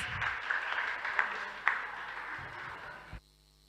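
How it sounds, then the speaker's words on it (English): Applause from the audience at a school debate, a sustained spread of clapping at moderate level that fades and cuts off abruptly after about three seconds. "Give yourself a round of applause, please."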